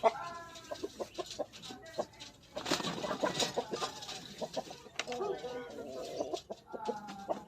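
Chickens cluck in short repeated bursts close by, with a brief noisy rustle in the middle and some background voices.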